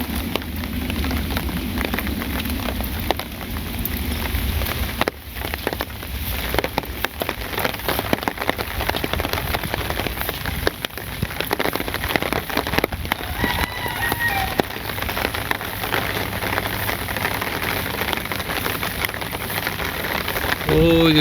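Heavy monsoon rain pours steadily onto surfaces around a flooded rural area, a dense, continuous hiss with scattered drips and spatters, close and loud throughout.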